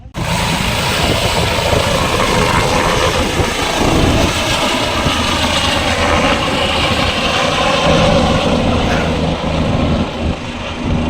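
An air ambulance helicopter, used under the PM Shri Air Ambulance scheme in Balaghat to transfer a patient, gives a loud, steady engine and rotor roar that runs without a break through the whole stretch, with no talking.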